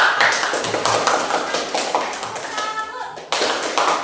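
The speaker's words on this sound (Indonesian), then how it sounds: "Kita berikan tepuk" Children clapping together in a classroom, a quick burst of rhythmic claps in unison with a voice and talk around it.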